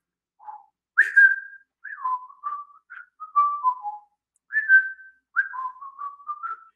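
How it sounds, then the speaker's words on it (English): A person whistles a tune alone, clear and close, in short phrases of sliding notes separated by brief pauses. "I want you to remember that whistle that I was doing."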